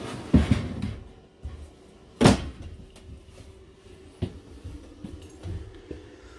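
Full-extension ball-bearing drawers in a 2020 Forest River No Boundaries 19.6 RV slide and bump shut a few times, with two louder thuds and several softer knocks and rolling slides between them.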